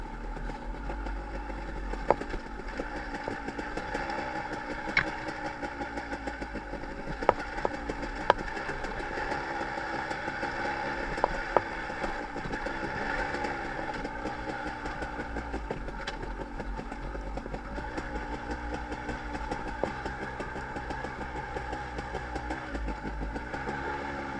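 Off-road dirt bike engines on the Foresthill OHV trail, a steady low mechanical drone close by with occasional sharp clicks and knocks over the running motor.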